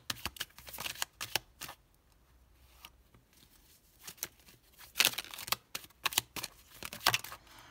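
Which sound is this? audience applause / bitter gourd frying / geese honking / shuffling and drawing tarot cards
shuffling and drawing tarot cards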